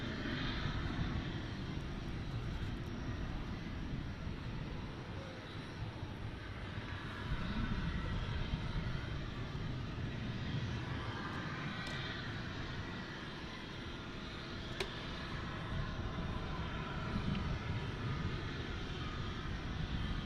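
A Finnair airliner passing at Dallas Fort Worth International Airport, a steady, loud broadband roar of jet engines that holds level and swells slightly, heard alone without talk.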